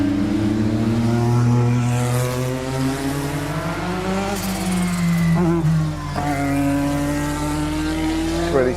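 A Williams FW11 Honda Formula One car engine roars loud and close, with a rising and falling engine note and clear harmonic whine as it revs steadily throughout.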